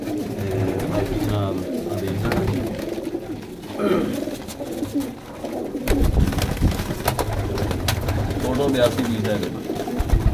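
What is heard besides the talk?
pigeons cooing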